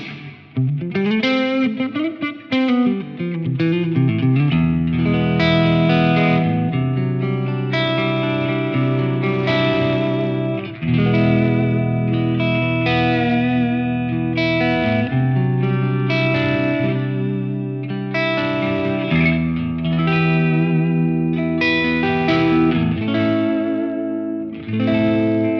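Electric guitar played through the ML Sound Labs AMPED flagship amp sim with reverb and chorus-like effects, ringing chords and picked notes sustaining into a wash of reverb, loud and clear with no talk.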